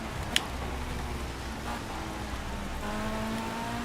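Steady rain hissing over a racing car's engine drone in Project CARS at Monza in wet conditions, with a sharp tick near the start and engine tones shifting faintly underneath.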